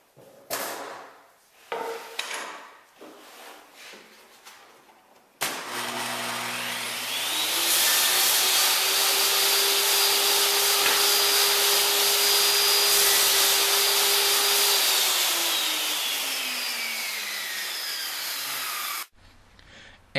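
A table saw cuts a lap joint in a wooden board, with the blade spinning up into a loud, steady whine that holds for about fourteen seconds before stopping abruptly, after some brief knocking and handling noises.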